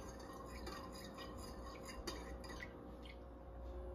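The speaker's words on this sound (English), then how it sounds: "And now I just need to stir this" Faint clinks and scraping of a utensil stirring homemade descaler solution in a container, with light irregular taps and swishes close by, quiet with no talking.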